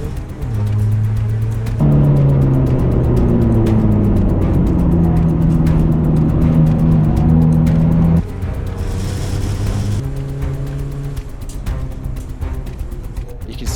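Racing cars on a race track, including a white, orange and black Power Max sponsored car, drone loudly and steadily throughout with layered engine tones that shift pitch as they run.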